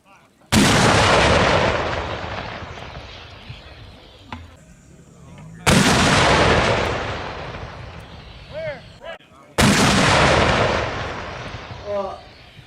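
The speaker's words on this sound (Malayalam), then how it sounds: "കാരണം ഉണ്ട മുന്നോട്ട് പോകുമ്പോൾ തോക്ക് പിറകിലേക്ക് വരും, അല്ലെങ്കിൽ പീരങ്കി പിറകിലേക്ക് വരും" Guns and cannons fire in a recoil demonstration: three separate, very loud booming shots spaced a few seconds apart, each trailing off in a long rumbling decay with faint whistling tones and some voices in between.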